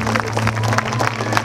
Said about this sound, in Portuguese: Você pode aplaudir mais forte que isso.